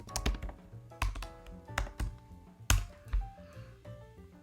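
Computer keyboard typing in a terminal during a software demo: irregular bursts of close key taps, some sharper strikes standing out, with no talking.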